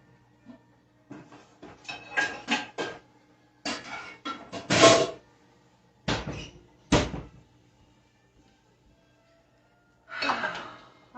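Clattering kitchen handling sounds as a cooking pan is searched for and pulled out, cupboard-like knocks and metallic bumps coming in separate bursts with pauses between, close by, no talking.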